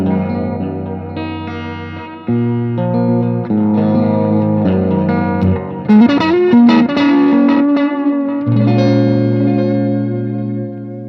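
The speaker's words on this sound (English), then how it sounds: "I'm a big fan of this kind of tape echo that comes from the Replex." Electric guitar played through a Replex tape echo unit, sustained distorted chords and bends smeared with repeating tape delay and reverb tails, loud and continuous with no voices.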